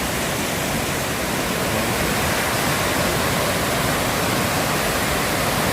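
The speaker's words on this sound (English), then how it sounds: "This is the river guys." A river runs past a rock-based house in Mt Lebanus, St Thomas, after flood damage, giving a loud, steady, unbroken rush of water that holds even with no voices over it.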